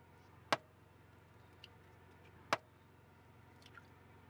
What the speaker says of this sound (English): So we're just gonna break our eggs into a bowl here.